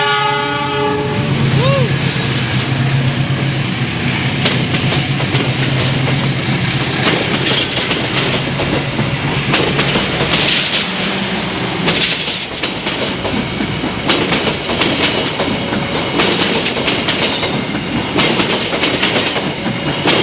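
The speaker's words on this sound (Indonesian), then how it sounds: "kita lihat keberangkatannya dari kereta api Cikurai" The Cikurai passenger train departs Cicalengka station with a loud horn blast at the start, then a continuous close roar of engine and rolling wagons with clickety-clack over the rails.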